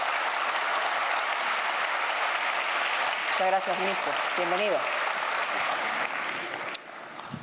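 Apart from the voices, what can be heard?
audience applause welcoming the economy minister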